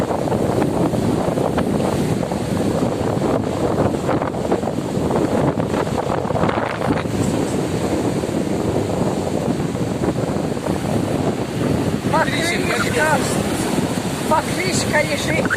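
Big sea waves surging and breaking, with strong wind buffeting the microphone in a constant loud roar, and people talking now and then over it.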